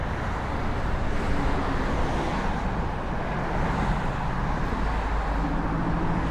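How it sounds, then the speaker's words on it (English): Loud, steady roar of car traffic on a New York City street near the Brooklyn Bridge in January, a dense continuous wash of engines and tyres passing close by with no break. "to me it's incredibly loud with the cars"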